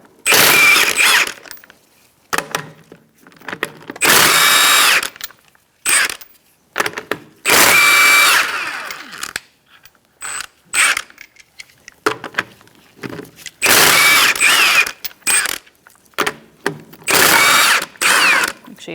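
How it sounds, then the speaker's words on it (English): Power tool fitted with a 21mm socket spinning off wheel lug nuts on a 2004-2009 Mazda 3, loud repeated bursts of whirring and ratcheting, each lasting one to two seconds with short pauses between, close and with no talk. "Using a 21mm socket, we're going to remove our lug nuts"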